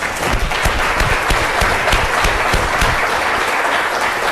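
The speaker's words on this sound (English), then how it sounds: "let us give you a round of applause" A seated town hall audience stands to give Provost George Hine a round of applause, sustained dense clapping filling the room loudly and steadily throughout with no pause.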